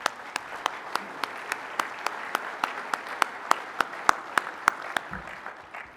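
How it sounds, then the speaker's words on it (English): Sparse, evenly spaced claps ring out one after another in a conference keynote hall, sharp and fairly close, with no talking underneath. "please give them a round of applause"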